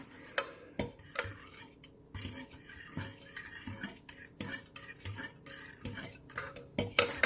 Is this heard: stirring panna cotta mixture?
yes